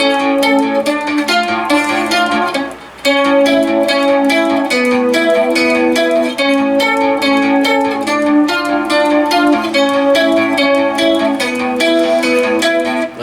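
An electric guitar plays a picked note pattern with effects, a steady stream of ringing notes that breaks briefly near the third second and then carries on.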